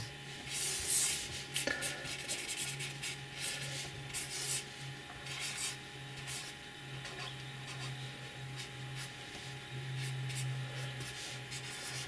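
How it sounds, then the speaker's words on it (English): A pencil drawing a face on paper, with steady scratching and rubbing strokes that come in bursts, louder at the start and again near the end, close and fairly soft with a low hum underneath. "So what we'll do is we'll draw a face like we did last time."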